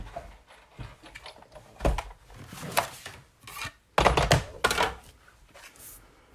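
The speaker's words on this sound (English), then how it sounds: "So we can actually bring in the big shot and still cut this out," A Big Shot die-cutting machine cuts out paper flowers, producing a few loud, clunky mechanical bursts with rolling, grinding texture between quieter handling noises, close-up with no speech.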